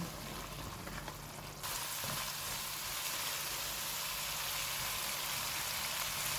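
Masala frying in oil on medium heat for chicken tikka masala, a steady loud sizzle that thickens and brightens partway through and carries on unbroken with no voices.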